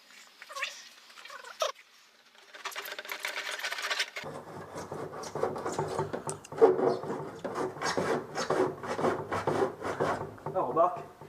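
A blade scraping along the bodywork of a Renault 4 under restoration, heard as close, rough rasping strokes in repeated bursts after a short quiet gap.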